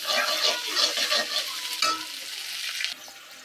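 Spices fry in a pan before ginger and garlic paste goes in, during a village-style rohu fish and winter vegetable curry, a loud close sizzle with stirring scrapes that drops off sharply near the end.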